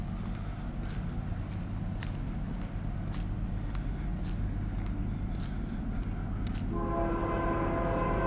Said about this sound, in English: Here's the trains that are always torturing us. Check it out. This is how close they are.